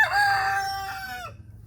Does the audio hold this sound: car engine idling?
no